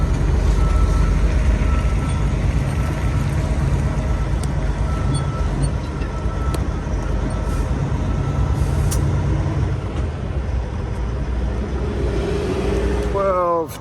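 Semi truck turning around in a U-turn, a loud close diesel rumble with air hiss and a rising whine near the end, with someone talking over it.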